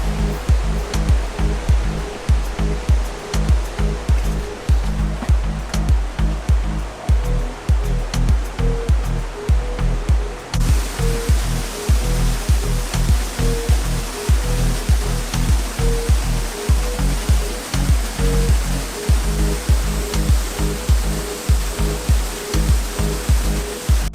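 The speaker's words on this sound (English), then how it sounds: "So we made it to the top of the waterfalls." Loud, continuous rushing roar of a waterfall at the top of Seven Falls near Santa Barbara, close up and steady, with buffeting wind gusts over the water.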